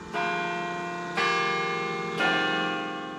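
A carillon at Carillon Park rings three strong bell strikes about a second apart, each leaving a long, bright, shimmering decay; loud and close with no voices.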